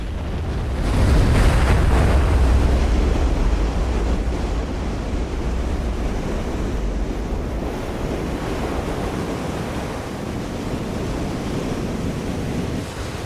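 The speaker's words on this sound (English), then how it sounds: "Just as he surfaces, another giant breaker comes crashing in." Giant ocean breakers crash in at a big-wave surf break, a loud, close roar that surges early and then rumbles on as continuous churning whitewater, with heavy wind buffeting and no voices.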